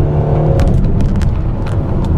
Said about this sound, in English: Here we go over the railroad tracks.